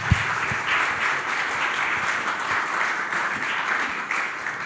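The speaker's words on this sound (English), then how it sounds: "Big applause for them, please." Audience applause for the speakers at a panel session, a dense, even wash of many hands clapping that holds steady at moderate loudness throughout.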